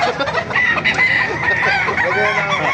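Roosters crow and chickens cluck in a busy poultry market stall at a Baliuag tyangge, the calls dense and overlapping at close range with steady crowd noise beneath.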